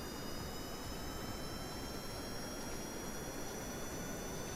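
A jet airplane engine roars steadily at full throttle during takeoff in Kerbal Space Program, a loud, constant broadband rush with a faint high whine and no speech.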